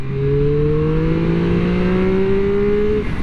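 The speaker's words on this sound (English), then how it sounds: "the highlight of this package has got to be the 765 3-cylinder engine" A 2024 Triumph Street Triple 765 R's three-cylinder engine revs up steadily, its rising multi-toned whine loud and close, climbing smoothly in pitch over a few seconds.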